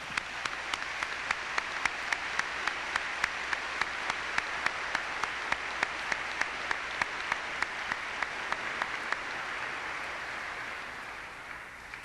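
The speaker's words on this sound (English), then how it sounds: "Applaud." Steady applause from a commencement audience, the Saint John's University class of 1988, with sharp individual claps over a dense, even roar that holds for about twelve seconds and eases slightly at the end.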